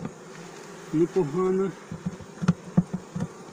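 Honey bees hum and buzz around a homemade wooden hive, with close, uneven buzzing bursts, while someone briefly says a word over them.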